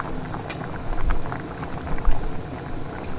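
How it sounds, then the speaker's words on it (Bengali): Pabda fish curry gravy with kalonji bubbling steadily in a pan, a continuous low simmer with soft irregular pops and a couple of louder bursts, close and moderately loud with no talking. "ঝোলটা ফুটে উঠেছে"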